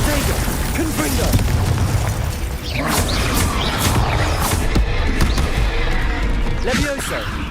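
Confringo blasting spell explosions during Hogwarts Legacy video game combat, repeated booming bursts and impacts in quick succession amid dense battle noise, with a voice calling out spell names throughout.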